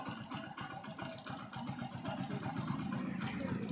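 A Hero Passion Pro motorcycle engine idles steadily after its tappet cover has been refitted, producing a low, even, rapid chuffing close up with no voices.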